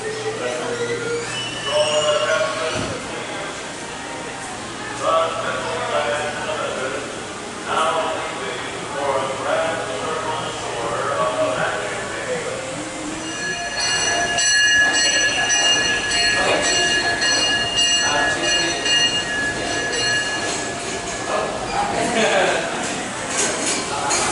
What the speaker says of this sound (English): The Disneyland Limited now arriving on a trip around Walt Disney's Magic Kingdom.